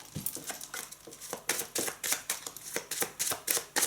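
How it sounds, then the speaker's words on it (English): Tarot cards being shuffled by hand, a quick series of crisp riffling bursts at an uneven but steady pace, close and fairly quiet with no talking. "Let's just give these cards a little bit of a shuffle."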